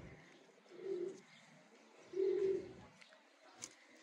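Pigeons of a flying breed kept for sale give two low, soft coos about a second apart, faint against a quiet background.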